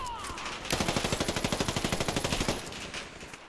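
Automatic gunfire in the video game Fallout 4: a rapid burst of evenly spaced shots lasting about two seconds, loud and close, with quieter game ambience before and after.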